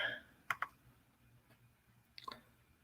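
A computer keyboard gives a few quiet, crisp tapping clicks in two short bursts, a pair of keystrokes early and another cluster near the end, against a near-silent background.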